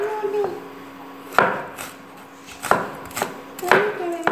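A knife finely chops shallots on a board, landing five or six crisp, irregularly spaced strikes with soft scraping between them, near and distinct, while faint tonal background sounds hum underneath.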